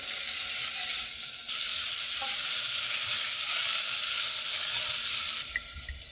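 Food sizzling loudly and steadily in a hot pan, turned with a heat-resistant spatula, the constant frying hiss briefly dipping and returning as the pieces are flipped, close up with no talking.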